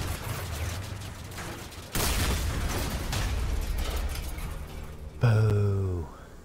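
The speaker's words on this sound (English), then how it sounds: "8mm cannons." 8mm cannons fire in the vehicle combat game Crossout, a rapid rattling volley that suddenly swells louder midway, followed by a sharp burst and a descending tonal whine at the end.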